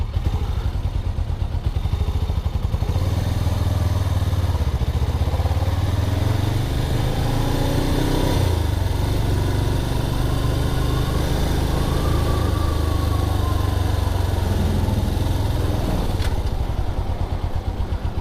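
A motorcycle engine runs loud and close throughout an evening ride, a steady droning rumble that rises and falls slightly in pitch with the throttle, with no speech over it.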